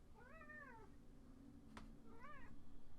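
Pet cat Harley gives two distinct meows, each with a rising-then-falling harmonic contour, close and fairly soft in a quiet room, with a brief click between them.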